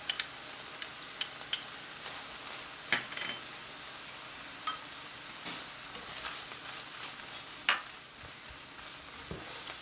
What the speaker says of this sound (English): Now that we've got the meat pretty much browned up